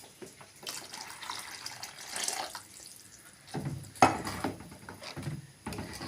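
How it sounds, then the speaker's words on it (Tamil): Water goes into a simmering sardine fish kuzhambu in a few quiet, close splashy pours with soft clinks of the pot, the strongest burst coming about two-thirds of the way through. "தண்ணி தேவையான அளவு விட்டுக்கலாங்க."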